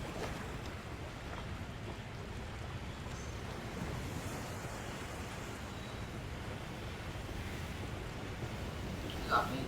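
Calm sea waves wash steadily in a continuous, soft, even roar with no breaks, heard alone at low level.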